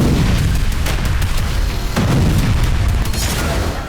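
Explosions from bombardment in Gaza, a loud, continuous rumble of heavy booms and blasts overlapping one another for several seconds.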